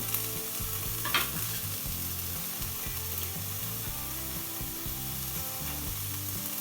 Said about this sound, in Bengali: বিটগুলো দিয়ে ভালো করে নাড়াচাড়া করে দেবো